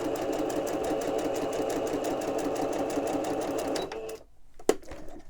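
A sewing machine stitches ephemera pieces in a fast, even mechanical whir for about four seconds, then stops, followed by quiet handling and a single sharp click.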